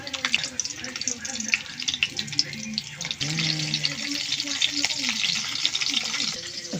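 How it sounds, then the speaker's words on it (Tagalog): Dried fish (daing) frying in a pan, a steady crackling sizzle with bursts of spattering throughout, close and fairly loud, with some background clatter and brief voices under it. "Siyempre, luto tayo ng daing."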